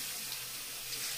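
Water runs from a tap at a sink during tooth brushing, a constant close rush with no breaks.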